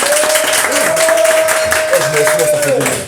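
A party audience breaks into a thunder of applause for Louis the barman, with voices and a whistle-like tone running over the clapping.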